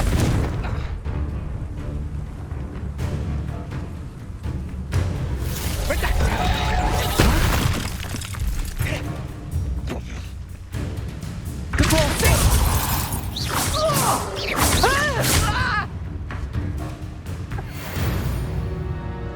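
Confringo fire spell blasts in Hogwarts Legacy, several loud crashing, shattering bursts over a continuous bed of game effects and music, with a voice talking between them.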